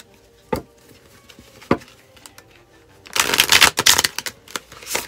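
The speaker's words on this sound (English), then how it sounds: "Shuffles well." A tarot deck, a Halloween-themed Trick or Treat set, is riffle-shuffled in a loud, close, rapid flutter of card edges, preceded by a couple of sharp taps on a table.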